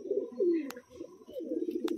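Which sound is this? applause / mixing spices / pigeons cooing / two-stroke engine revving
pigeons cooing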